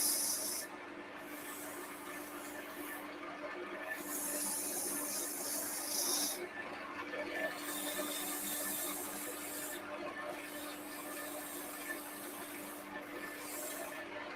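Sandpaper at 80 grit rubs against a turned wooden piece spinning on a woodturning lathe, a steady close-up hissing scrape with a few brief lifts and pauses over about fourteen seconds.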